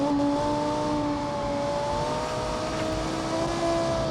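A 2010 track coupe race car in the BeamNG video game holds a steady, sustained engine whine while it slows for a corner, with faint tire noise underneath and no voices.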